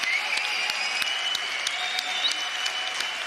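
Applause from the audience at a boxing fight fills the hall. Dense clapping runs steadily throughout with sharp individual claps standing out and a faint tonal hum underneath.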